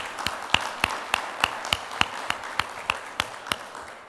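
An audience at a milestone event claps in a slow, even rhythm of about a dozen sharp, separate claps, fairly close and without voices.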